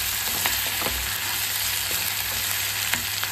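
Potato pieces sauté in hot oil in a pan for prawn thokku, giving a continuous close sizzle with occasional soft scrapes and clinks of a spoon stirring.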